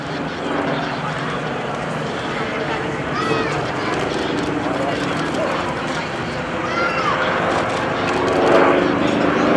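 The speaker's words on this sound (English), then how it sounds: "That, ladies and gentlemen, is the Curtiss Helldiver." A Curtiss Helldiver propeller warplane's engine drones steadily in flight at a 2011 Blue Angels Homecoming airshow, rising slightly toward the end, with people talking over it.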